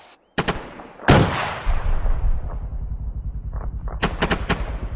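Rockets fired from an A-10C Thunderbolt II in a flight simulator whoosh and crack in sharp bursts, several launches in quick succession over a rumbling engine drone, with no voices.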